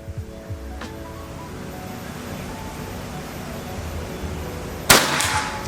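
A Bocap 500cc PCP air rifle fires one sharp shot into a concrete block near the end, standing out from a steady background hiss of outdoor wind.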